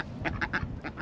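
Several quacks from a duck at a large city farm in London, sounding in quick succession, close and fairly loud against a busy outdoor background.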